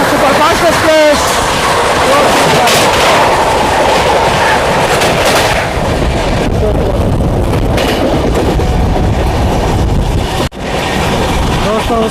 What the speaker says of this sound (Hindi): सुपरफास्ट एक्सप्रेस को क्रॉस करने वाली है हमारी ट्रेन।